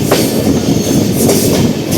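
The Amrit Bharat Express, running its inaugural trip from Thiruvananthapuram to Hyderabad, rumbles loudly along the rails with a steady clickety-clack and a faint wheel squeal, heard close from on board.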